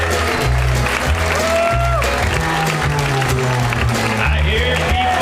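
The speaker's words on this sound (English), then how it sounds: "Give it up right now for Big Rich Brock!" Comedy club audience at Zanies in Nashville applauds and cheers a comedian taking the stage, a steady loud wash of clapping while music plays underneath.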